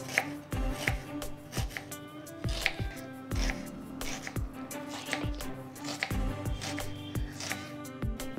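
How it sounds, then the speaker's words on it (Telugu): Knife cutting onions lengthwise on a board, with a steady series of crisp, close chops at a moderate, even rhythm and no talk. "ఉల్లిపాయల్ని పొడవుగా కట్ చేసుకోవాలి."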